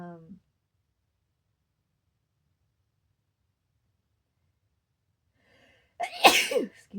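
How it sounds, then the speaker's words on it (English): A single loud, sharp sneeze bursts out near the end after a long stretch of silence, with a brief voice heard at the very start. "I've only ever sneezed twice up here during session"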